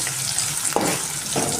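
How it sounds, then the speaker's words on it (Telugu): Mutton and brinjal frying in a pan, a continuous close sizzle with a couple of quick stirring scrapes, no talk. "ఇది బాగా వేగాలి."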